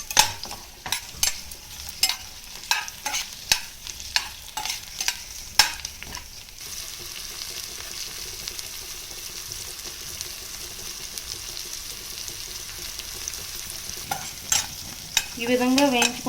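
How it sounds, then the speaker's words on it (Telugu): Green chillies and onion pieces fry lightly in oil in a pan, with a run of sharp stirring scrapes and taps for the first several seconds, then a steady soft sizzle, and a few more scrapes near the end. "దీంట్లో పచ్చిమిర్చి, ఉల్లిపాయ ముక్కలు లైట్గా వేగితే చాలండి."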